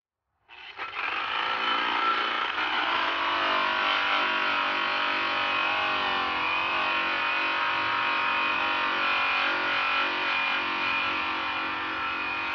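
A polishing machine spins a Zephyr Blue Baron buffing wheel with stainless bar rouge against an aluminum wheel, starting abruptly and then holding a steady, loud, high whirring grind for the rest of the stretch.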